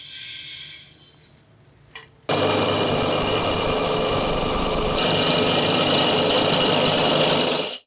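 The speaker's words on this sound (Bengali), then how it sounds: "আপনাদের ধুনিয়া গুঁড়ো করে দেখাচ্ছি" An electric grinding machine powders coriander seeds. After a couple of seconds of quieter background noise it starts abruptly into a loud, harsh, continuous whirring roar that holds steady and then cuts off at the end.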